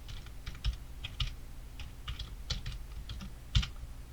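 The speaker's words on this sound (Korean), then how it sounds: "컴포지션에 커서가 보이면 타이핑을 하겠습니다" Irregular clacking of keys on a computer keyboard, close and fairly quiet, in short bursts with a few louder keystrokes.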